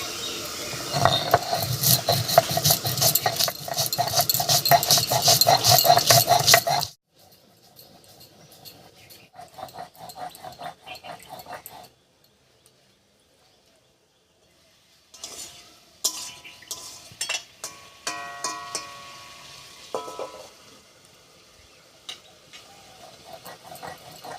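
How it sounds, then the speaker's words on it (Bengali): Black mustard seeds, green chillies, salt and a little water are ground on a stone, a dense loud scraping and rubbing at first, then softer intermittent clicks and scrapes after a quiet pause. "এক চামচ মতো কালো সর্ষে আর নিয়েছি চারটে কাঁচা লঙ্কা এবার একটু লবণ আর একটু জল দিয়ে একসঙ্গে করে বেটে নেবো"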